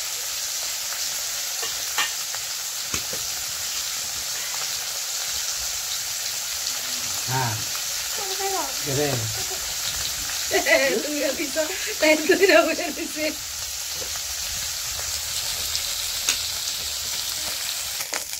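River fish fries in a little oil in a pan, giving a constant sizzling hiss, with a few stirring knocks and someone speaking briefly in the middle.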